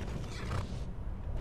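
A horse in the Skyrim video game gives a short, close neigh, a brief whinny burst lasting about a second.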